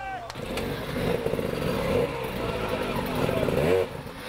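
An enduro motorcycle engine revs hard and steadily at Erzberg, rising and falling in pitch as the rider stays on the throttle, loud and close.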